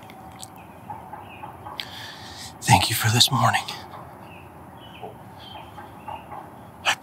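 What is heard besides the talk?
wild turkey toms clucking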